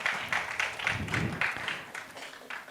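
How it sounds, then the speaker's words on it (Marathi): Audience applause at a felicitation during a reading campaign event, steady clapping from a crowd lasting throughout, moderately loud and slightly distant, with no speech over it. "एकदा जोरदार टाळ्या वाजून आपण त्यांचं अभिनंदन करू."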